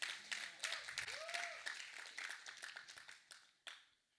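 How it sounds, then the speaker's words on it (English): A church audience claps for Abby: a scattered, moderately quiet round of clapping from a small crowd that fades over about four seconds, with a murmur of voices beneath. "Let's give Abby a clap."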